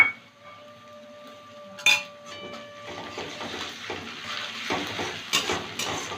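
Onion, slit green chillies and garlic paste frying in a pan for an egg and bottle gourd curry, beginning with a faint ringing tone and a clink, then building into a busy sizzle with stirring and utensil taps.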